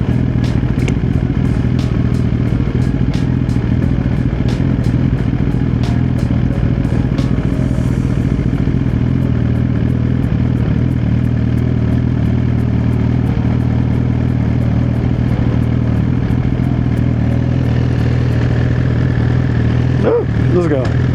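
A Suzuki liter-class motorcycle cruising on the road, its engine producing a steady, loud, continuous drone with strong low harmonics and wind noise, holding an even pitch throughout.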